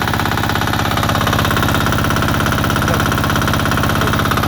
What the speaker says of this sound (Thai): เครื่องสูบน้ำดีเซล14 แรงนะผมดูด3ออก3